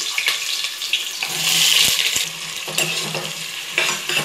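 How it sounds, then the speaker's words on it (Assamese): Onions hiss and sizzle steadily in hot oil in a home kitchen pan, a bright continuous frying noise with faint scraping and stirring clicks on top. "এয়া তেল গৰম হৈ আছে পিয়াজ দিছো"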